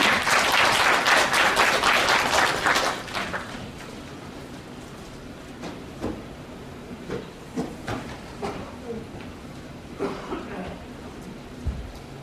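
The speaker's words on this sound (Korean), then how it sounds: "좋은 말씀 해주신 이사장님께 다시 한번 큰 박수 부탁드립니다" An audience at a workplace assembly gives a burst of loud applause that fades after a few seconds into scattered claps, a cough and quiet room noise, with a brief voice near the start.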